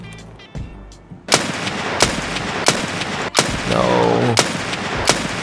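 Gunshots in Escape from Tarkov: several sharp, loud, close reports spaced roughly a second apart, with a brief spoken word early on and a short whining mechanical sound partway through.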